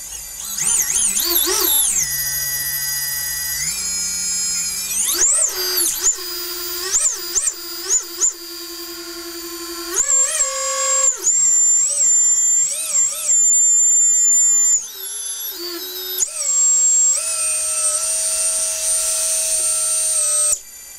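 Small Vortex Pro 250 racing drone motors spinning up on the bench, a loud, shifting high-pitched electric whine that climbs, dips and changes pitch repeatedly in stepped bursts, with brief pauses between runs.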